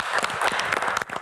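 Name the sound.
studio audience applause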